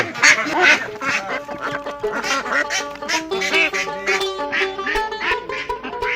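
A flock of ducks quacking continuously, many overlapping calls close by forming a busy, noisy chorus.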